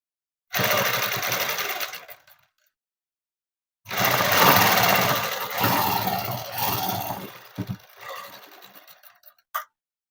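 A sewing machine stitches a blouse at the shoulder, running in two steady, close whirring bursts separated by a pause, ending with a few short stops and starts.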